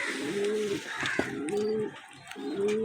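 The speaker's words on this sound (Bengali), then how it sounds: "দেখুন পায়রা দুটো" A pair of Rampuri pigeons coo close by, three rolling, warbling coos repeating in a slow rhythm with small rustles between them.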